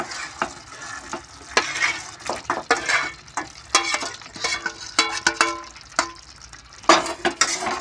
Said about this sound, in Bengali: এবার আমি ভাজা চিকেনগুলো এর মধ্যে দিয়ে দেবো।